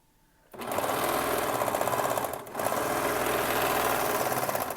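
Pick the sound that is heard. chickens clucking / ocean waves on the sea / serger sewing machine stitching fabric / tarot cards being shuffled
serger sewing machine stitching fabric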